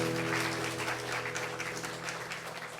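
Congregation clapping during a church evening worship service, a dense, steady wash of many hands under a sustained organ or keyboard chord, fading slightly toward the end.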